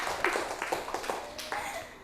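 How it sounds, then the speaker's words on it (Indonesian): Brief scattered claps from a small group in a classroom, applauding a student, a handful of quick uneven hits lasting about two seconds. "Tepuk tangan untuk Mbak"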